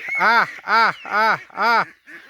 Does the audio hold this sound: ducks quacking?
yes